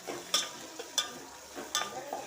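Tomato and onion frying in a pan for North Karnataka brinjal palya, a soft sizzle with several sharp stirring scrapes at uneven intervals, fairly quiet and close.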